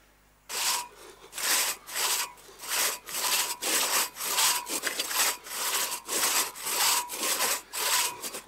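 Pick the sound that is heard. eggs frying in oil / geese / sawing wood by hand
sawing wood by hand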